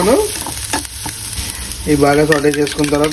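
Ginger and garlic pieces sauté in a hot pan with a steady, loud sizzle and some stirring. A voice talks over the frying in the second half.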